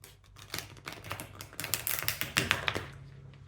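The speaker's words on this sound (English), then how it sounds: "I'm just going to shuffle them like this in order to get some reverse cards as well." Tarot cards shuffle in rapid, papery clicks and riffles that build from soft taps into a denser, louder flurry before trailing off, heard close up with no talk.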